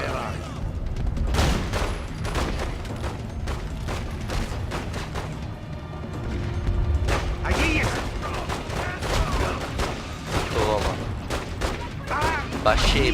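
Gunfire in The Godfather 2 video game set in Cuba: repeated sharp shots and bursts in rapid, uneven bursts, mixed with game effects while a player talks over them.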